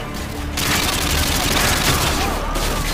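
Dense, continuous gunfire and explosions in the Call of Duty Modern Warfare 2 campaign fill the whole stretch, loud and close, with a brief let-up near the start and again toward the end.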